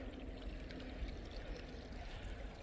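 A small mountain stream trickles and burbles steadily along a walking trail into a valley gorge, a continuous soft watery wash heard close by with no talk.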